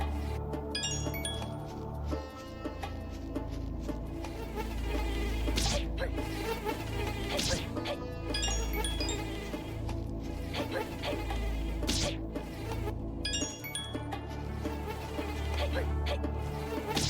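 Insects buzz continuously in the Valkie 64 video game, a busy, whining drone that stays fairly loud throughout, with faint chimes and clinks scattered over it.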